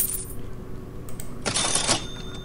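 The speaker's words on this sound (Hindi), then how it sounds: "मनी वाले आजकल काफी साउंड इफेक्ट्स चलते हैं ना" A stock coin-money sound effect from an editing library plays: a faint mechanical lead-in, then a bright, loud metallic jingle of coins in one burst that rings briefly and fades.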